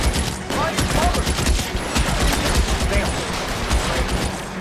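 Gunfire in the video game L.A. Noire, rapid overlapping shots in a dense volley that runs the whole stretch, loud and close, with voices mixed in underneath.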